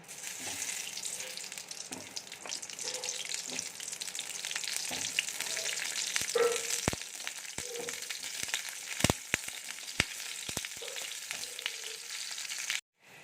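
Sliced pointed gourd frying in oil in a wok gives a continuous crackling sizzle, punctuated by clicks and scrapes of a spatula stirring the pan, with no voices present.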